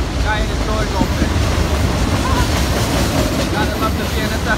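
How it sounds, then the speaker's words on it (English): A BNSF freight train of autorack cars rolls past on the CN Halton Subdivision, a loud, close, continuous rumble and rattle of wheels on rail with faint squeals over the steady roar. "Gotta love the BNSF auto racker."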